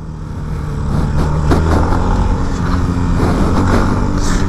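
A Honda XRE 300 motorcycle engine drones steadily and loudly close by while riding, its rough low rumble rising slightly in pitch as it goes.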